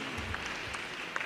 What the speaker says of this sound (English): Can we clap for Pastor Glory, please?